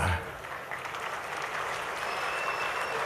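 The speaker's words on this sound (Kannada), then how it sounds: "ಯಾರು ಚಪ್ಪಾಳೆ ಜೋರಾಗಿ ತಡ್ತಾರೆ ಅವರು ನನ್ನ ಪಾಲಿಗೆ ದೇವರ ಸಮಾನ" Large audience applause at a public event with a swami on stage, steady, moderately distant clapping that continues throughout with some background voices.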